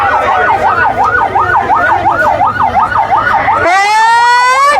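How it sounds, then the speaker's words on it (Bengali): A loud ambulance siren wails in a rapid rising-falling yelp, then switches to a steady long wail, close by over traffic noise, on a street during a road blockade protest in Barishal, Bangladesh. "এই অ্যাম্বুলেন্সটাকে জায়গা করে দেই, আমরা অ্যাম্বুলেন্সটা যাওয়ার জায়গা করে দেই"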